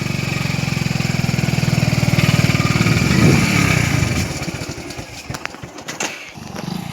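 A motorcycle ridden toward a flooded, muddy riverside stretch in Banaskantha, its loud, throbbing engine drone holding steady for several seconds before dropping away into scattered knocks and a quieter rumble.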